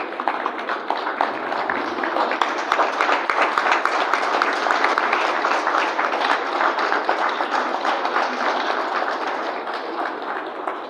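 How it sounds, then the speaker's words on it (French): An audience at a press freedom day ceremony applauds journalists with steady, dense clapping that holds evenly throughout, no voices on top. "je voudrais que vous puissiez vous lever pour qu'on applaudisse pour le travail de qualité que vous faites"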